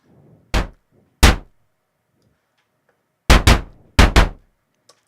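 Synthesized drum-and-bass percussion hit made on a single synth, orchestral style: sharp, punchy broadband smacks, two separate hits followed by two quick double strikes, loud and close with silence between.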